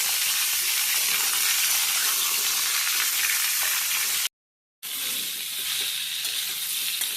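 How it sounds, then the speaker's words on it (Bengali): Cubed potato and pumpkin frying in hot oil in a pan while being stirred, giving a loud, steady sizzle with scraping that breaks briefly for half a second and then resumes. "আলু কুমড়ো দিয়ে ভালোভাবে নেড়ে চেড়ে নেওয়া হচ্ছে"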